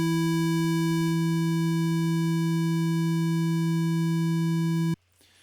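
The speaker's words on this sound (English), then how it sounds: "I want to balance it a little bit more toward the sine wave like this." A synthesizer oscillator blended from a square wave toward a sine wave holds a smooth, loud, steady tone for about five seconds, then cuts off abruptly into near silence.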